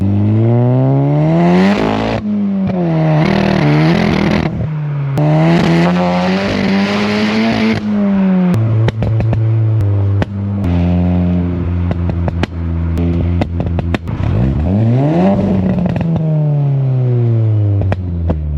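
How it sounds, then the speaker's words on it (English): A Volkswagen Polo GTI 1.8 with a very loud modified exhaust revs hard and drives, its engine note rising and falling through gears with crackles, close and continuous throughout. "let me get in the car and we'll do a few drives, a few revs, and you guys can get even more of a better sound of how this car sounds like"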